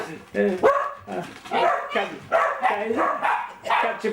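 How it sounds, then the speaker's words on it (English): Several dogs bark in repeated bursts, loud and close, mixed in with people talking over the commotion. "All hell's broke loose with the dogs."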